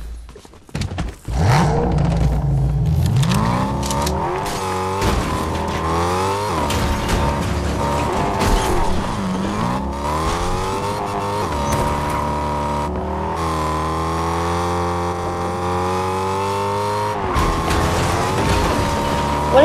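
A car in Fortnite revs loudly, its engine pitch repeatedly climbing and falling, with bursts of tire squeal. The sound runs continuously for about twenty seconds, almost free of talk.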